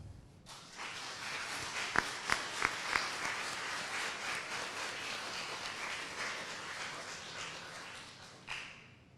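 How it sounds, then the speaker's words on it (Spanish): Audience applauding a writer at a literary tribute event, a warm round of clapping with a few louder claps early on, fairly faint and distant. "primeramente pido un cálido aplauso de todos para nuestro ilustre escritor Augusto Rua Basto."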